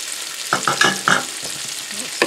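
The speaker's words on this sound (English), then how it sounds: "we'll let them saute a little bit to get started with the flavors of this nice tortilla soup" Shredded carrots sauté in a Cosori multi-cooker for tortilla soup, with a soft sizzle under several quick, close stirring scrapes.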